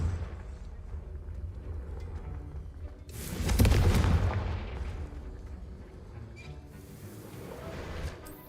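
The Confringo blasting spell in Hogwarts Legacy bursts with a loud, booming explosion midway, then a rumbling decay amid ongoing combat ambience.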